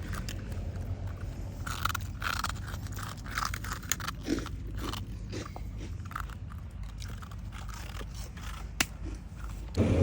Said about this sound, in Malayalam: അവൻ തിന്നത് കറുമുറു